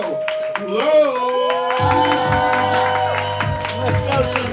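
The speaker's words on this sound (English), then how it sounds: "We clapping, we building energy, we making all the noise for Sentel Glow." An audience at a live poetry event claps and cheers for a poet over a steady rush of crowd noise, while a host keeps talking loudly over it.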